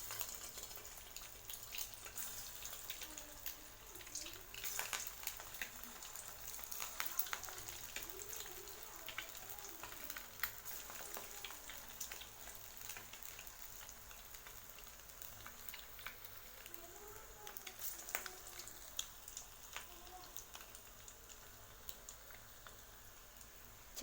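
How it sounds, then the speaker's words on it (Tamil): Egg pakoda batter balls sizzling in hot oil, a steady close crackle and hiss of frying that runs the whole time with light bubbling pops and no talk. "பாருங்கள் எண்ணெய் சூடாகிடுச்சு. இப்போ நம்ம முட்டை பக்கோடா போட்டு எடுத்துடலாம்."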